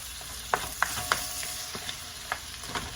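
A utensil stirs shrimp and chicken fried rice in a hot pan, giving quiet scrapes and clacks at irregular intervals over a soft background sizzle.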